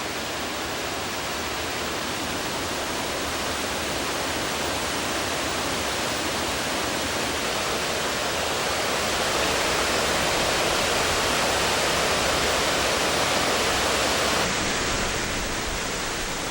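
A broad, low waterfall about 3 m high and 50–60 m wide, Jiktang Falls on the Hantan River, rushes steadily, a dense unbroken roar of falling water that barely changes in loudness.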